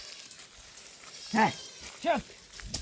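Goats bleat while being herded to graze in the jungle, two distinct wavering bleats close by in quick succession with a fainter third call at the end over outdoor background noise.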